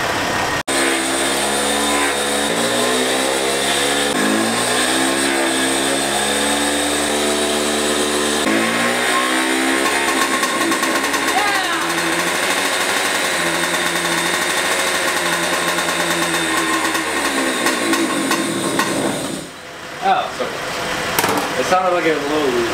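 A 2-stroke racing go-kart engine runs close and loud, revving up and down in repeated rising and falling sweeps before settling into a steadier buzz, briefly dipping near the end.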